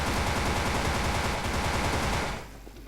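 Gunfire in the online shooter Wolfteam roars as a dense, continuous barrage of rapid shots for over two seconds, loud and unbroken, before cutting off abruptly to quieter background.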